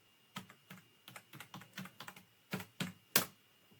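Close, quiet keystrokes on a computer keyboard while entering a password, about a dozen soft taps in an uneven rhythm, ending with one sharper press, with no voices.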